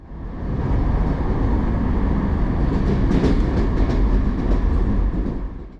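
A Romanian long distance train rolls along the rails, a loud steady roar and rumble of the carriage with faint clicking, fading in and out, no voices.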